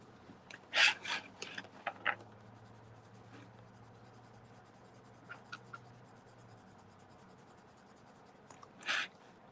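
Twistable crayons coloring on paper, with scratchy strokes in bursts near the start, a few light scratches midway and another firm burst at the end, close and without speech.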